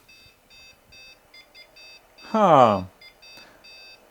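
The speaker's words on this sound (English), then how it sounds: "it beeps the same error code, so no difference" Repeating short diagnostic beeps from a Commodore PC-10 under repair, sounding an error code in an even rhythm of tones, briefly interrupted by a loud nearby spoken word midway.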